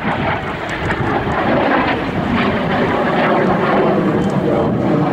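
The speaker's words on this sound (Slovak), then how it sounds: "Na vrchole tohto prvku sa lietadlo pohybuje rýchlosťou 200 km za hodinu" An L-39 Albatros jet roars through aerobatic manoeuvres at an airshow, a loud, steady, broadband engine rush with wind buffeting, sustained for several seconds without any break.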